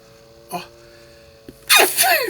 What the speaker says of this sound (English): I was going to try to stop it and sneeze offline